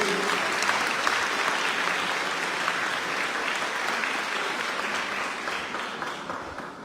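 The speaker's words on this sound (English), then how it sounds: "So you all need to clap that again." A large crowd at a secondary school graduation ceremony applauds steadily for several seconds, a dense, even wash of clapping that tapers slightly at the end, with no talking.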